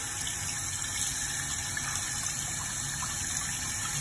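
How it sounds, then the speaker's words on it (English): Water draining from a bath after soaking coins in acetone, a steady close gushing rush that runs evenly and unbroken throughout, with no voices. "Draining water."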